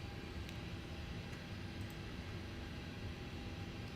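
In a Microsoft Flight Simulator 2024 Boeing 737, the engines roar at takeoff thrust on the runway, a steady broadband rumble and hiss with faint clicks and no talking.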